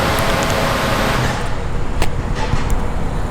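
A BMW E36 318ti on a dyno roars at full throttle, a loud sustained engine and roller drone that holds steady and builds slightly toward the end, with no talking.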